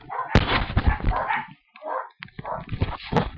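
A house dog barks and yips in a rapid, close series of sharp bursts, with a brief pause midway before more barking and whimpering resumes.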